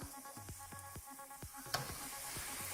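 Spoon scraping and tapping in a cooking pan while stirring sugar for dried plum chutney, soft rhythmic strokes about twice a second over a faint steady hiss.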